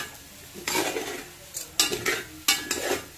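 Soya biryani ingredients being mixed in a pot with a spoon, giving three bursts of scraping and clinking that start sharply and fade, close by with no talk.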